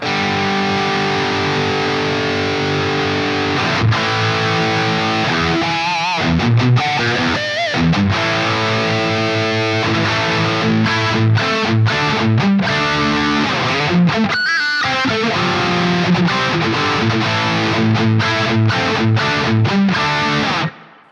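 A distorted electric guitar played through a Marshall-style tube amp with 6550 power tubes, loud and continuous, with chords and riffs ringing over about twenty seconds.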